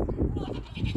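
Goats on a small farm bleat in short bursts at close range, with a person's voice mixed in among the animal calls.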